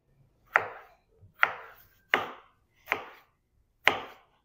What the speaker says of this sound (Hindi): टमाटरों को मैं रफली रफली सा यहाँ पे काट लूँगा